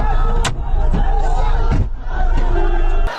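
Angry crowd of TMC supporters blocking the road at Diamond Harbour, Bengal, a dense roar of shouting voices with sharp bangs and slams punctuating it.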